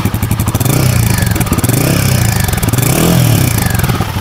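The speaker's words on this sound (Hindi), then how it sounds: "तो अभी बाइक स्टार्ट है और इंजन साउंड, अब थोड़ा सा एक्सेलरेशन लेंगे" Royal Enfield Guerrilla 450 motorcycle engine inside a showroom, revving gently in two swells from a steady idle, loud and close with a deep, bassy exhaust note, no voices.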